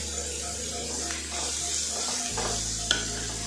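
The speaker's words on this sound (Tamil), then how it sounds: "ஆனியன் ஆட் பண்ணதுக்கப்புறம் ஜஸ்ட் ஒரு 2 minutes நல்லா சாட்டே பண்ணிடுங்க" Onions sautéing in a pan with curry leaves, giving a steady, close sizzle and frying hiss with occasional stirring scrapes and a sudden low shift partway through.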